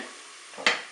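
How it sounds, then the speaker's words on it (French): White wine poured into the hot pot of a Cookeo multicooker gives a single short, loud sizzling splash near the end, after a faint steady background hiss. "maintenant je vais ajouter mon vin blanc"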